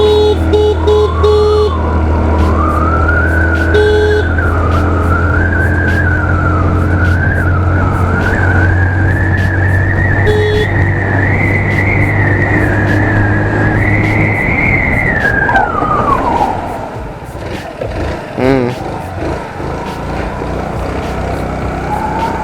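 A Hero Maestro Edge scooter accelerates from a standstill toward 60 km/h in an open area, its engine whine climbing steadily in pitch for about fifteen seconds before easing off and falling away.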